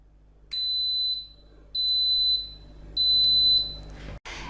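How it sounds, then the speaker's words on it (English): An Instant Pot DUO series electric pressure cooker gives three clear, loud beeps, each a steady high tone lasting about half a second with short gaps between, heard up close against a quiet kitchen background. "In a few seconds, Instant Pot will beep, and that will tell you it knows what to do"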